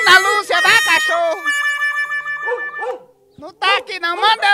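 A dog barks and whines in short bursts, with a sustained whining tone in the middle, while people nearby call out and talk in Portuguese.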